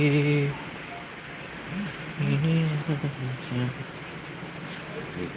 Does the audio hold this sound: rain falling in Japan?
yes